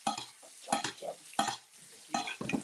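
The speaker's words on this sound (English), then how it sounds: "So I'm looking for the butter to start bubbling like that." Butter frying in a pan while being stirred, with crackling sizzle bursts and scraping strokes of a utensil recurring in an uneven rhythm, close and moderately loud.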